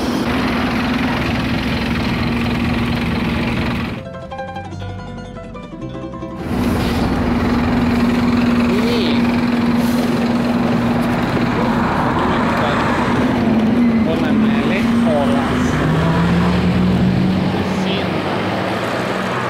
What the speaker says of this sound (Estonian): nüüd me läheme bussi peale ja siis sõidame edasi, sõidame Leholasse